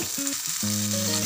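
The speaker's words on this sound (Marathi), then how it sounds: "हा तेलात छान परतवून घ्या।" Onion frying in hot oil for a Maharashtrian home-style bhaji, a steady broadband sizzle with faint low tonal hum beneath, continuous and close throughout the short stretch.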